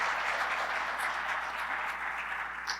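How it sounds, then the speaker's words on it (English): Audience applause for a presenter at an ExxonMobil talk on autonomous operations, a steady, fairly loud wash of clapping that holds evenly for about three seconds with no voices over it. "Let's give Tito a big round of applause."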